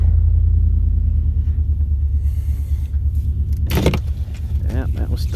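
An Oliver Super 66 tractor engine runs steadily after a cold start, a loud, low, throbbing idle close by, with a brief clatter and a voice over the top near the end.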